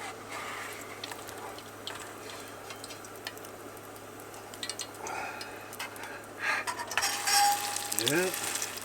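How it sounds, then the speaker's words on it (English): Spicy fish cakes frying in a makeshift pan on a camp stove in a van, giving a soft, steady sizzle and crackle with faint clicks, growing a little louder near the end. "It's sizzling a little bit."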